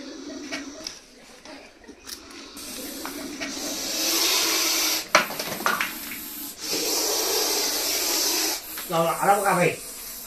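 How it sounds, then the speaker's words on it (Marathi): An angry snake hisses loudly and steadily for several seconds, a harsh sustained rush like a pressure-cooker whistle, with a voice briefly heard near the end. "हा या सापाला राग आल्यानंतर हा कुकरची शिट्टी ज्याप्रमाणे असते त्याप्रमाणे हा साप आवाज काढत असतोय"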